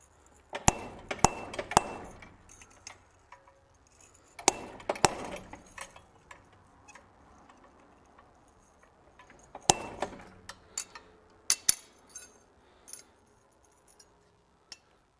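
A forged oak leaf hook is chiseled to add veining, sharp metallic strikes landing in quick clusters of two or three, separated by quiet pauses, close and crisp.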